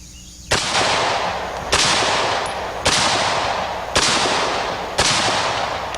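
An AR-15 match-model rifle with a removable carrying handle fires .223 rounds outdoors on a windy range: five loud, sharp shots about a second apart, each trailing off in a long echoing decay.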